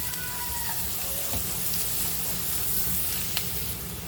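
Onions softening with turmeric in a hot pan, a steady even sizzle and crackle heard close and unbroken, with faint clinks of stirring.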